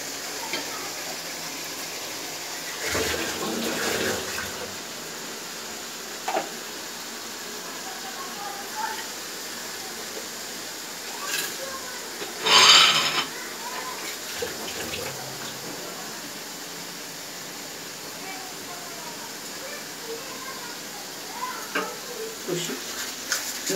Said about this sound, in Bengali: এবার এটা মশলাটা একটু কষে নেব